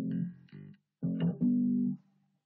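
Electric bass notes played short and detached in a lesson exercise, a few clipped low plucks with a brief gap, then a slightly longer held note fading out, heard up close and alone.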